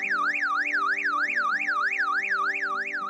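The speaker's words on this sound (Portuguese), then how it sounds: "O alarme do carro," A car alarm wails in a fast, regular up-and-down siren pattern, loud and continuous, with no other sounds.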